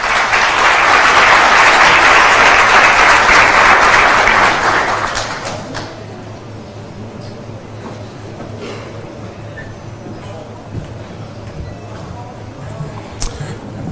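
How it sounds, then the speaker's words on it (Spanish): A conference audience of Panamanian business executives applauds loudly to welcome a former president of the Dominican Republic. The applause is full and sustained for about five seconds, then fades to a quieter room with faint scattered sounds. "a quien recibimos con un fuerte aplauso"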